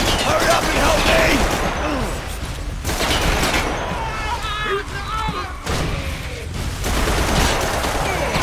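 Rapid bursts of gunfire in the dinosaur shooter game Primal Carnage: Extinction, loud and dense with a few brief pauses, mixed with mechanical clatter and game effects.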